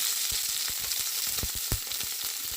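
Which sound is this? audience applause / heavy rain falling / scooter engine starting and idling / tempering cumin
tempering cumin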